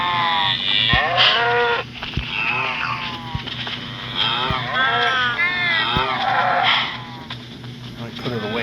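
Minecraft cows mooing in several drawn-out, wavering calls close together, over a steady game hum with talk mixed in.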